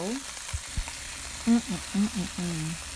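Chicken quarters browning in a pot give off a steady soft sizzle under a person talking nearby, the frying hiss continuing beneath the voice throughout.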